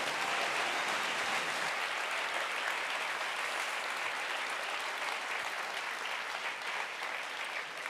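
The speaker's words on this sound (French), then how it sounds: "On peut l'applaudir très fort." Sustained, dense audience applause at the Geneva sports awards night, loud and steady throughout with no voices over it.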